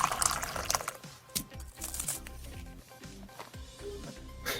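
Water poured over an inFlow Smart Scanner, an IP65-rated mobile barcode scanner, splashing and running off its casing in uneven close bursts with some clicky handling.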